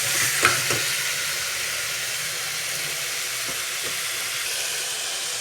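Vegetables sauté in a pan for vegetable biryani with a constant sizzling hiss and a few scraping stirs near the start, close and steady, with no talk.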